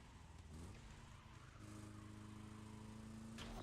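Old Volkswagen Type 2 bus engine in the racing game Forza Horizon holds a steady, low droning note that slowly rises in pitch, with no voices, a sudden change in tone near the end.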